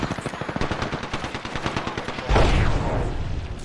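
Rapid automatic gunfire in the Xbox One game Apex Legends, a steady string of close, loud shots that gives way to a denser burst of blasts and rumbling impacts toward the end.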